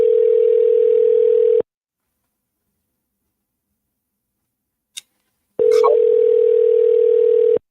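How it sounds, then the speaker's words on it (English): A telephone ringback tone on an outgoing call sounds loud and steady in long single-pitch rings separated by silence, with a faint click just before the second ring. "Answer the phone, man."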